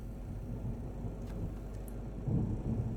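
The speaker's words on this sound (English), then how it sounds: "Thunder rumbled." Low thunder rumbles through a stormy scene in the video game Monsters of Little Haven, a steady, dull roll that swells slightly near the end, with no voices over it.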